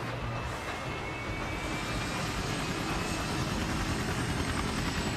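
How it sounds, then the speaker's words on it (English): A video game helicopter flies with a steady mechanical drone and rotor roar that holds constant and swells slightly louder toward the end, with no talk over it. "Okay, getting in. I'm in the chopper,"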